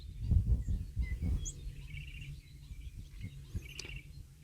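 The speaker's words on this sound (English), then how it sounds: "Then we hear the barn swallow." A barn swallow calls outdoors on a farm in spring, giving a few thin, high chirps and twitters at moderate distance over low rumbling background noise, with no talking.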